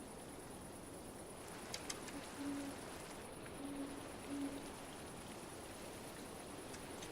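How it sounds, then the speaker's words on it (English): Owl mob in a Minecraft pirate modpack hooting faintly a few times over a steady ambient hiss, distant and soft. "Now we do have owls as a mob we can find in this mod pack"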